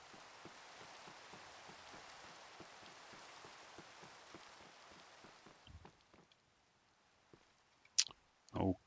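Rain falling in the Minecraft video game, a steady hiss of drops pattering on surfaces that fades out after a few seconds, followed by a couple of sharp clicks.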